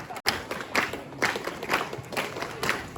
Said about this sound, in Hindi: अब बजाओ तालियां बेटा बहुत अच्छे तरीके से